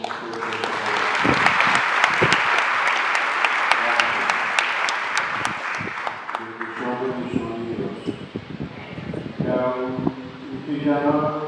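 A church congregation applauds the Mass servers at a Christmas Eve dawn Mass, strong clapping for several seconds that fades out as a voice begins speaking over it.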